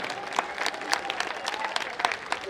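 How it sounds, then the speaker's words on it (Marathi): An audience at a Gudi Padwa celebration held by a Marathi community group in a residential complex gives a whole performing team a round of applause. The dense, steady clapping is moderately soft and continues throughout with a faint tonal hum beneath. "एकदा जोरदार टाळ्या ह्या पूर्ण टीमसाठी पुन्हा एकदा"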